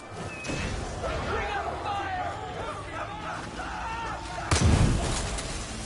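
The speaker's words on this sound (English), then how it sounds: "now we can use our shotgun" A single heavy shotgun blast in the Far Cry 5 video game lands as a loud, close boom near the end, following several seconds of busy in-game noise and clatter.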